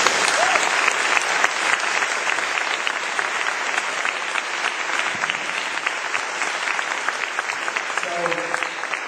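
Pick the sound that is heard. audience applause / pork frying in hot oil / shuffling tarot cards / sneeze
audience applause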